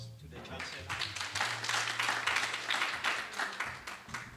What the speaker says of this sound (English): Can we give a round of applause to the Chancellor?